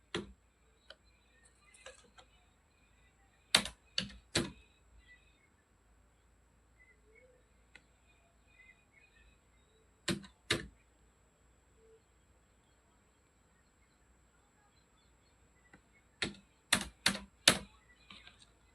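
Computer keyboard keys tapped to enter an account number during an online PF withdrawal, heard as short quiet bursts of clicking keystrokes separated by long pauses, with no talking.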